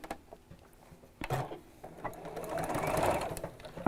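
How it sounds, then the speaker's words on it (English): A home sewing machine stitches along the bias-cut edge of fabric, a steady close mechanical whirr that builds after a brief start, with no talking. "we're going to start sewing right from the edge of the fabric"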